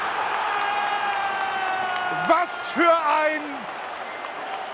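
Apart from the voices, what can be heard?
football crowd cheering at Hafenstraße stadium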